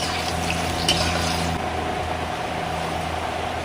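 Green jackfruit koftas frying in hot oil, a continuous close hiss and sizzle with a steady low hum underneath, one brief clink early on, no talking.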